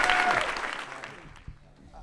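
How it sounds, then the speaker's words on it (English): Audience applause at a university hall talk, a brief loud burst of clapping that quickly dies away within a second or so, leaving a few scattered claps and room noise. "Thank you very much for the applause."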